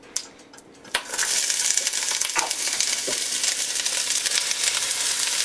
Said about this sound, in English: the downfall of frying things is, well, they splatter you